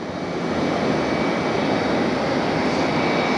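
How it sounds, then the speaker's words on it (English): A jet airliner roars at Philadelphia airport in a loud, continuous broadband rush of engine noise, close by and steady. "This was the trivia plane that we saw in Phoenix the other day."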